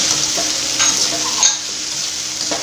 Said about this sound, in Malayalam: ഇതും കൂടി നമുക്ക് ഇതിനകത്തേക്ക് ഇട്ട് കൊടുക്കാം.